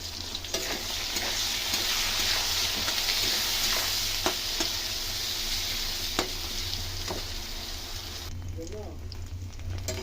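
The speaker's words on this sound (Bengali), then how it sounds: "এবার বেগুনটাকে ভেজে নেব।" Eggplant pieces seasoned with turmeric and salt fry in hot oil, a steady close sizzle broken by scattered pops and spatters, with a short stirring clatter near the end.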